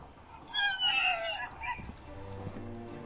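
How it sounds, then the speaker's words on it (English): A crow caws in The Last Door video game, one harsh, raspy call that is loud and close, then fades into a quiet low background hum. "Seriously, that crow is getting on my nerves."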